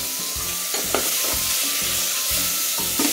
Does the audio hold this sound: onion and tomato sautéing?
yes